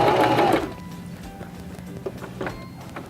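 A Singer Start 1304 sewing machine stitches a buttonhole, a loud burst of fast mechanical stitching for about half a second before dropping to quieter clicks and small knocks.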